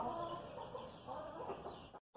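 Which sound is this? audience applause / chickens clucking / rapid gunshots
chickens clucking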